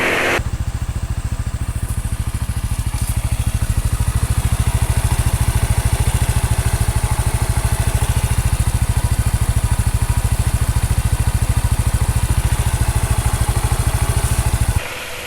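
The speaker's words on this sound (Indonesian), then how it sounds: "Suara mesin sudah mulai kasar sih." A motorcycle engine, growing rough after 457 km and due an oil change, idles steadily and loudly with a rough, rattling chug throughout, then cuts off abruptly at the end.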